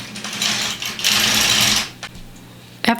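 An LK150 knitting machine carriage sliding across rows, a loud close mechanical whirring clatter in two passes, then a pause and a brief sharp clack at the end.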